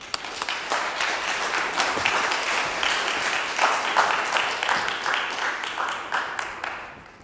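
Audience applause in a lecture hall, sustained dense clapping from a seated crowd welcoming a professor before a public ethics lecture, steady throughout and tapering slightly at the end.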